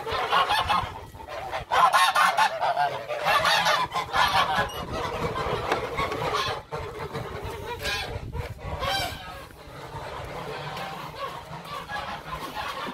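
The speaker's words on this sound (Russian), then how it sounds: "Сейчас гусям дадим." Geese honk loudly and repeatedly at close range while being fed on a farmyard, the calls dense and overlapping throughout, with chickens nearby.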